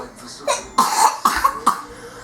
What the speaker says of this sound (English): he started coughing